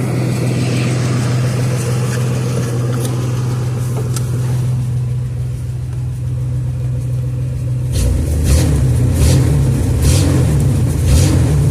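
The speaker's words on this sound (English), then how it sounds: "let's give it some gas." Chevrolet S10 pickup engine with an idle surge fault, idling with a steady low rumble for several seconds before being given gas, rising into a louder, rougher revving roar close by.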